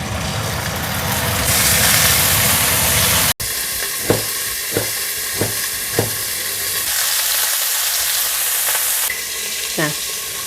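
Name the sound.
fish frying in oil with extractor fan running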